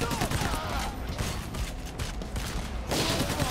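Dense rapid gunfire from PAYDAY: The Heist, a continuous rattling fusillade loud and close throughout, with talk mixed in.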